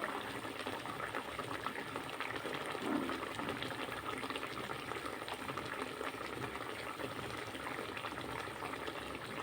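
Katla fish curry with onion and no ginger or garlic simmers and reduces to a thick gravy, bubbling in a steady low burble throughout.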